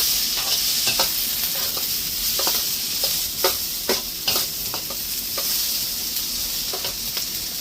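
Spring onions and bell peppers stir-fry in a hot pan with a steady, close sizzle, broken by repeated scraping stirs and clicks of a utensil against the pan.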